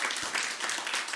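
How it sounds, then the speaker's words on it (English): Audience applause at the PCT Honors 2024 ceremony, a dense steady wash of clapping filling the short moment without a break. "So please do give them a big round of applause."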